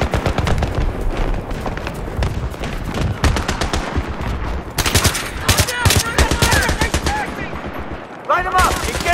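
Sustained machine-gun fire in the Battlefield 3 video game, close and loud, with dense rapid bursts and overlapping shots from several weapons that continue almost without pause.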